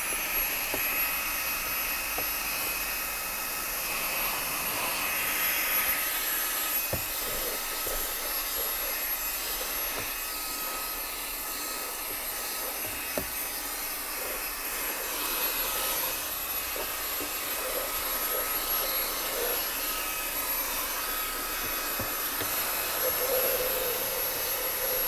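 Mi Vacuum Mini handheld vacuum cleaner running steadily inside a car interior, a continuous close, loud whirring hiss throughout with small bumps and rattles as it moves over surfaces.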